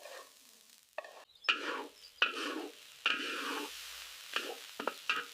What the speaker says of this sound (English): Put all the ingredients together and give it a final mix.